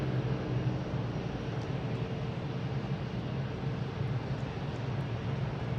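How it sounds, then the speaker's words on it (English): An American Airlines plane at Boston Logan International Airport gives off a steady, broad jet-engine roar with a low rumble, heard from a distance and holding even throughout without talk. "We have American Airlines here heading to Indianapolis, flight"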